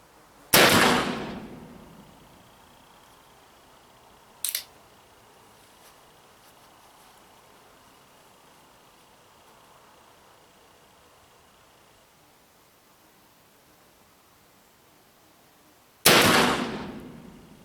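A Ruger Old Army cap-and-ball revolver fires two loud, booming shots about fifteen seconds apart, each trailing off in a rumbling decay. A fainter, sharp crack falls between them against quiet outdoor background noise.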